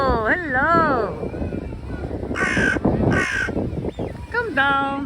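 A crow caws twice in close succession, loud and near, with a few other calls at the edges, while a person keeps talking over the outdoor scene on a windy day at a bird feeding.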